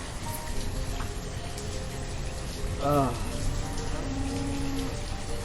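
Pouring rain in the city-building video game Banished, a continuous even hiss of falling drops, with a brief tonal animal-like call midway and faint background tones underneath.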